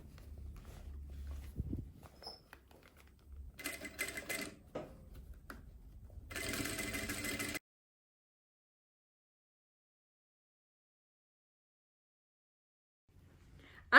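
A sewing machine stitches a dress coat in short bursts, close by and mechanical, separated by pauses of handling the fabric, then the sound stops and near-silence follows.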